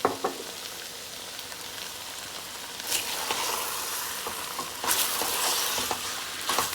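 Lamb stew sizzles and fries in a pot as cassareep goes in, a soft crackling hiss broken by stirring scrapes and brief bursts of louder spitting, with no talking.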